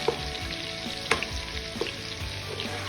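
Onions fry in oil with stock cubes while being stirred, a close, fairly quiet crackling sizzle with a few sharper taps and scrapes of a spoon against the pan and no voices.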